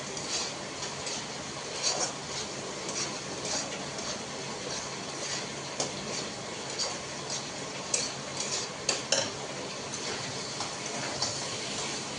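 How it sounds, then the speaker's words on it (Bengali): Meat being stir-fried in a karahi wok, heard as a continuous rough sizzle with frequent light metallic clicks and taps from the spatula striking the pan. "মাংসটা কড়াইতে কষাচ্ছি"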